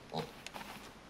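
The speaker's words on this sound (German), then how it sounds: "Schweinchen! Ein Schweinchen namens Babe." A single short, close pig grunt in Stranded Deep, followed by a couple of faint soft snorts, over a quiet background.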